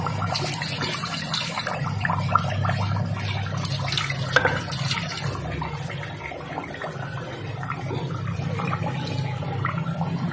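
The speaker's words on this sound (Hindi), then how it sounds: "थोड़ा सा बिल्कुल पानी इसमें डाल देती हूँ मैं।" Water poured into a pot of thick mutton-broth curry during cooking, a steady close liquid rush lasting throughout over a low kitchen hum, with no talking.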